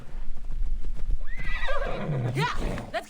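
Phobos, a horse in Assassin's Creed Odyssey, gives a loud, close, rising whinny over a run of clip-clopping hooves, with a voice speaking briefly early on.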